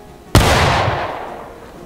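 A single sharp musket shot from a file-fire volley in War of Rights cracks out close and loud, then rolls into a long, fading reverberant tail across the field.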